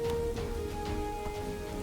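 Steady rain in the city-building game Kingdoms and Castles falls as a continuous close hiss with scattered drop patters, and a sustained tonal hum runs underneath throughout; no one speaks.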